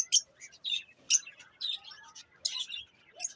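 Lovebirds in a colony cage give sharp, high chirps and tweets in quick clusters, close and fairly loud with brief gaps.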